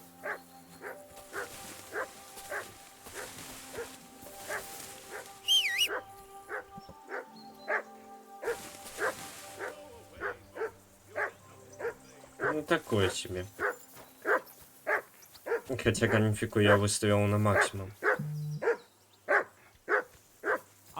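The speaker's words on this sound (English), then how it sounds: "I assume you can hear that damn dog of yours barking." In Kingdom Come Deliverance II, a game dog barks over and over in a steady rhythm of sharp, fairly loud yaps, with in-game music and someone talking over it.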